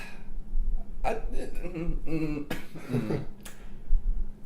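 Several strained, choppy coughs and throaty hacks come in bursts, close and fairly loud, with a short pause in between.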